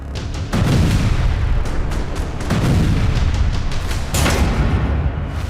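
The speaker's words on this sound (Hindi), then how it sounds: "हूती का मिसाइल विस्फोट, संकट में इजराइल के पोर्ट" Missile explosions from Houthi strikes boom heavily, with three loud, deep blasts at intervals, each followed by a rumbling roar that fills the space between them.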